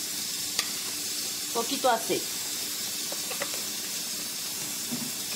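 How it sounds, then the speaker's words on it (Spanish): Chopped onion and garlic sizzle in a little oil in a pot over the flame, a steady close frying hiss with faint clinks as the pan is stirred, while a voice speaks briefly. "le voy a poner tantito aceite para acitronar la cebolla junto con uno de los ajos picados."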